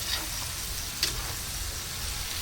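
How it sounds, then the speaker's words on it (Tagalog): Ingredients for sopas sautéing in a pan, a steady, close sizzle and frying hiss with a faint clink of stirring partway through. "so gigisa lang muna namin yung lahat"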